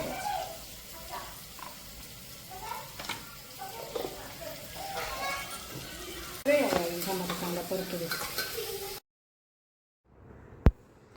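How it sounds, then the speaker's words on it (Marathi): Chopped onions sautéing in a pan with a ginger, green chili and garlic paste for soya pulao: a steady close sizzle with stirring scrapes for about nine seconds, then silence broken by one sharp click. "कांद्याला चांगलं परतून घ्यायचं"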